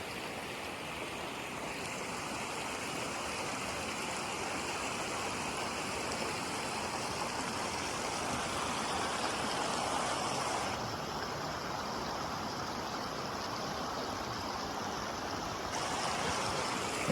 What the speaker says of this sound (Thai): น้ำตกแสงจันทร์นะครับ